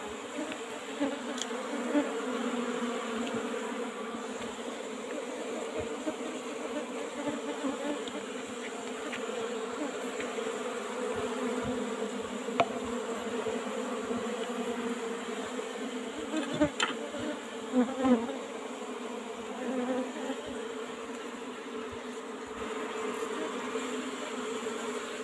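Asian honey bees (Apis cerana) swarm and buzz around an old-style wooden hive box during honey harvest, a steady dense drone with a few louder passing bees close by throughout.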